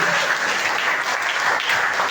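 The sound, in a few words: congregation applause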